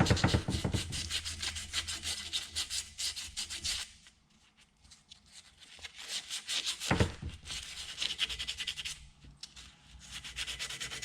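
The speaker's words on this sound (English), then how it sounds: "Clean up this hole a little bit with some emery cloth to get some of the rust that might be in there now." Emery cloth scrubs rust from inside a universal joint hole, a rapid rasping rub in quick strokes that pauses, resumes more faintly, then picks up again, close and alone.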